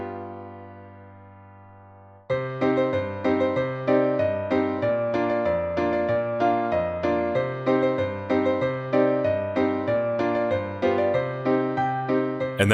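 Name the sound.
sea shanty melody played over chord progression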